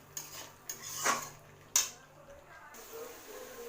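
Masala being mixed in a pan over a low flame, with a few scattered metallic clinks and scrapes of a spoon against the pan, fairly faint against quiet background.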